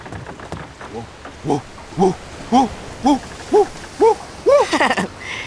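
A cartoon dog, the big red dog Clifford, howls musically in a steady run of about nine short, tuneful rising-and-falling hoots. They grow louder and quicker toward the end and are heard clearly alone.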